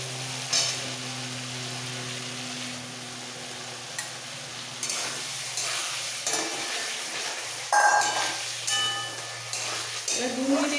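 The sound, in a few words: spice paste and fried potatoes sautéing in a pan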